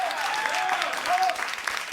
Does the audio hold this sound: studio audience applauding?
yes